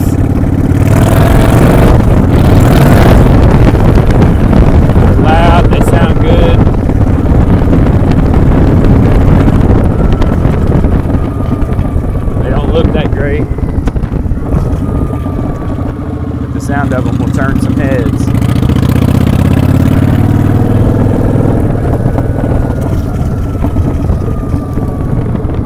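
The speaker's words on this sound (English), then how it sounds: "Kawasaki 900 Vulcan Custom. Got" A Kawasaki Vulcan 900 Custom motorcycle fitted with cheap eBay exhaust pipes rumbles loudly under heavy wind buffeting. The engine drones on while riding, and a voice speaks over it at times.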